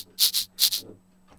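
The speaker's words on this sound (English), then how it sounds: "Here are some single shot maracas." Single-shot maracas from a shake-and-scrape VST plugin give two quick pairs of dry, bright rattling shakes, close and crisp, followed by a faint trailing rustle.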